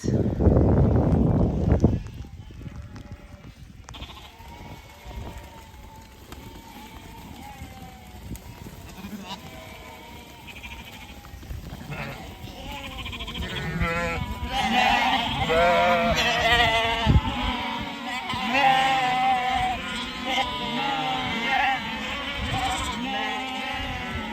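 Sheep and lambs bleat on a farm, starting sparse and growing into a busy chorus of overlapping calls near and far, with a few voices speaking underneath.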